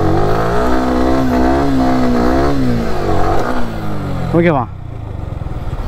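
A KTM motorcycle revs hard with the throttle held for a wheelie, a loud sustained engine drone that rises and wavers for several seconds, then sweeps up sharply before cutting away, with someone talking over it.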